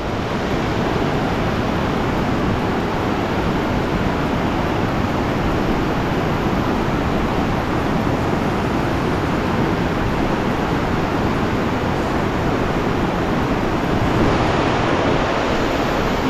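Creek water rushes steadily in a loud, continuous broadband roar, close by and unbroken for the whole stretch, with no voices over it.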